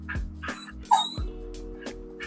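A puppy gives a few short, high barks and yips close by, indoors, in a quick irregular run.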